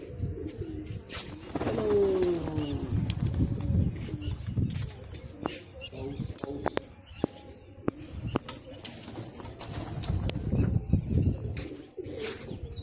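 Pigeons flying with flapping wings mixed with cooing nearby, flurries of wingbeats and soft coos rising and falling over a faint outdoor background, fairly quiet overall.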